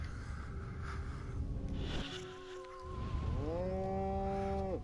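A cow moos in the PS2 game Destroy All Humans!, two long, drawn-out lowing calls with a short gap between them, clear and close over a low game background hum.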